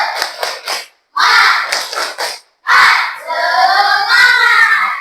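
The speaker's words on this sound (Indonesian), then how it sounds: "Coba kita tepuk semangat dulu ya" A group of teachers at an academic supervision session perform a 'tepuk semangat' chant, clapping in quick patterned bursts and then shouting together in unison, loud and close, with brief pauses between phrases.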